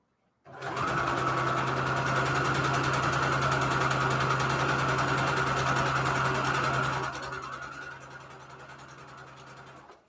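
A sewing machine runs steadily while stitching quilt fabric, a loud continuous whir with a humming motor tone that holds for several seconds, then slows and fades near the end.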